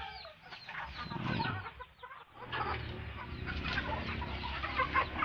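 Native chickens clucking inside a muddy chicken house after rain, several close birds murmuring and clucking continuously with a brief quieter gap near the two-second mark.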